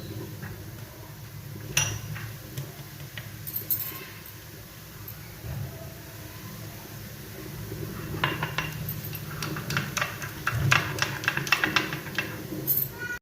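Vaseline and raw milk are stirred into a thick paste in a bowl, giving scattered clinks and scrapes of a utensil against the dish, close by and moderately loud over a low steady background hum.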